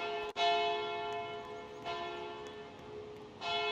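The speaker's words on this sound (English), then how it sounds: "You gotta click the bell." A school bell in the Roblox game Royale High rings with a bright, sustained metallic tone, struck again at about one-and-a-half-second intervals for three rings, each decaying slowly, with no talk.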